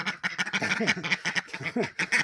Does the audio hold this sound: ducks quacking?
yes